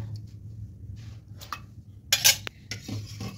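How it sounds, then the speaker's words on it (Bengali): Spoon stirring milk in a pot as diluted vinegar is poured in to split it for chhana: light metallic clinks and scrapes against the pan, with a brief louder clatter near the middle, close by and with no talking. "এবার নাড়াতে থাকবো।"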